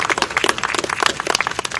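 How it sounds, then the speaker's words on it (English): An audience at a September 11 commemoration ceremony in Coatesville applauds a group of children, giving a steady, dense round of clapping with no voices over it. "Full round of applause for these beautiful children"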